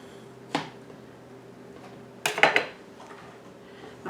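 Knife cutting through the last tomato on a cutting board, a single sharp tap followed later by a quick cluster of three or four knocks, close and clear in a quiet room.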